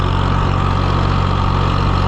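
A John Deere 1020 tractor engine runs steadily close by, a continuous low, even rumble with no pauses or changes in pace.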